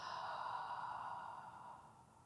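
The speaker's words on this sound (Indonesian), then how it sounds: "And exhale." A steady, breathy exhale during a Pilates breathing exercise, heard alone and close, holding level for most of its length before gently tapering off.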